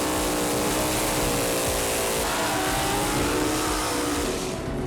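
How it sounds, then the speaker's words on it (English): Drag cars doing burnouts at an all-out Mopar versus Chevy pinks race final, a loud, sustained engine roar with high revving and tire noise for the whole stretch, steady and close. "Let's see the burnouts, boys."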